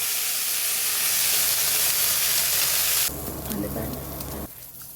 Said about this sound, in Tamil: ரவோண்டு எண்ணெய் ஊற்றி நல்லா வதக்கிங்க